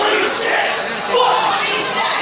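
Wrestling crowd in an arena roaring and chanting together after a tombstone piledriver onto a concrete floor, a loud, dense wall of voices that swells and holds steady throughout.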